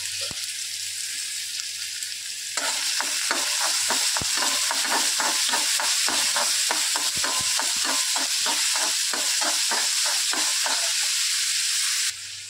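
Chopped onions and green chillies sautéing in a pan for anda bhurji, a loud steady sizzle that jumps up after a quieter start, with repeated spoon stirring clicks running through it until the end.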